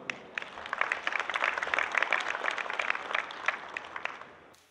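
An audience applauds steadily for several seconds at the opening of a dairy expo, a dense patter of many hands clapping that fades out at the end.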